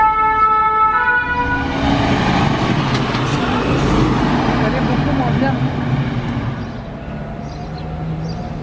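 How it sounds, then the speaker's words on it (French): A fire engine siren wails loudly in steady tones as the truck arrives through a city square, fading slightly amid surrounding traffic and street noise. "Il y a les pompiers qui arrivent."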